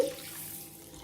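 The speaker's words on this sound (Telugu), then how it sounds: "ఇందులో నీళ్ళు వేసుకొని నానబెట్టుకోవాలి" Water from a tap runs steadily into a bowl of washed rice, set aside to soak; a continuous soft splashing pour with no one speaking.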